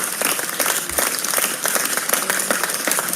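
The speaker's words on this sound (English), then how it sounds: "Round of applause." A small group claps and applauds during an online teaching session's safety meeting, a steady, busy patter of hands at moderate loudness throughout.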